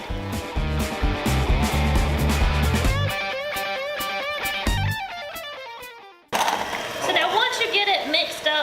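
An electric hand mixer runs on high through cinnamon cake batter made with cake mix and pudding, a steady buzzing motor whine that cuts out, then starts again, with a person talking over it.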